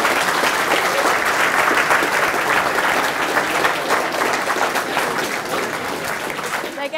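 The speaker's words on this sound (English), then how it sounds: "final round of applause for Robin" Sustained applause from a lecture audience at a popular mathematics talk in Birmingham, thanking a visiting lecturer from Oxford; dense, even clapping fills all seven seconds without letting up.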